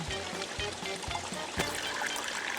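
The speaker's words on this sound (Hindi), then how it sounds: "इसमें से इतना पानी कैसे निकल रहा है?" Water trickles and pours out of a notebook in a Hindi kids' cartoon, a short steady dribble with rhythmic dripping and splattering accents, close and moderately loud.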